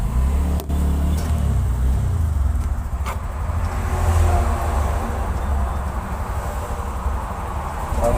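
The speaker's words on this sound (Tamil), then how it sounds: "வண்டியெல்லாம் பாருங்கள் அப்படி பறக்குது பாருங்கள்" Road vehicles speed past on a bypass highway, a steady loud low rumble of traffic and engine noise that swells and eases as they go by, with no voices.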